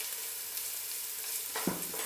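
Onions sautéing in a pan with ginger garlic paste, green chili and curry leaves, a steady close sizzle and frying hiss with a brief stirring scrape near the end.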